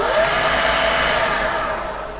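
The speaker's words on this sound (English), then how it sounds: "So if I now start the motor again" The electric motor of a Creed 7B Mark 1 teleprinter starts up, spinning into a loud, steady whirring hum up close that eases slightly toward the end, with no voices.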